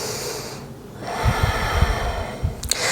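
Breathing during a yoga session, a soft intake of breath followed by a few short, audible exhales and snorts through the nose, close and clear over a quiet room.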